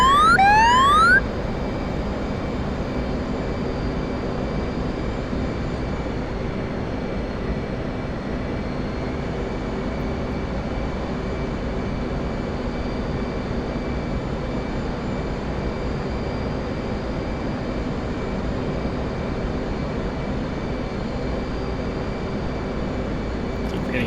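An F/A-18 Hornet jet in the video game DCS World during a carrier landing, a constant loud engine roar and whine sustained for the whole stretch after a brief chirp at the start.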